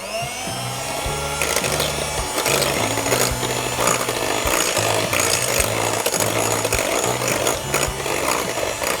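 Electric mixer beating chocolate muffin batter at low speed, a steady continuous motor whir with a rattling, rhythmic churn running loud and close throughout.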